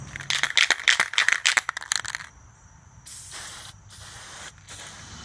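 Aerosol toner spray coats going onto a Crosley 718-B radio cabinet outdoors: a burst of short rattling sprays and clicks, then three longer steady hissing passes separated by brief pauses, close and alone.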